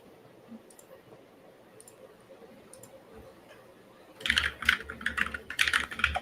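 Computer keyboard typing with clicking keys, a quiet murmur at first, then a busy burst of clattering keystrokes near the end, close and fairly loud.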